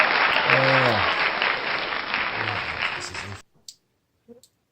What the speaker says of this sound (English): Hey, you can clap now.